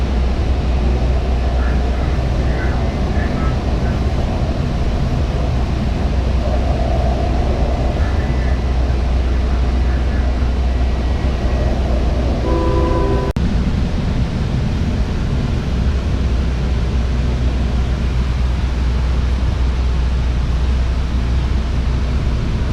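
Constant low rumble and roar of a DART commuter train in motion pulling into the DFW airport station, loud and unbroken, with faint squeals and a brief tone partway through.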